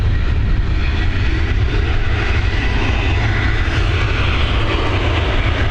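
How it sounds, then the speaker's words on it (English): Boeing 737 jet on an Alicante flight at Dublin Airport, runway 28L, a loud, steady, close engine roar heard alone, holding strong for several seconds. "Here we go, this Alicante flight. It's another Boeing 737."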